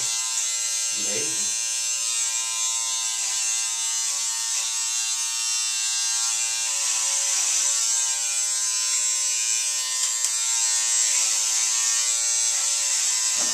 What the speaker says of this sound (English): Is that not a good clipper,